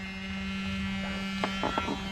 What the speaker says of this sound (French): Bon, les ventilos, ils ont de plus en plus de mal, mais...